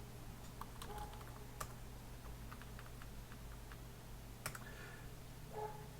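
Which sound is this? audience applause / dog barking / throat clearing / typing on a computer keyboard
typing on a computer keyboard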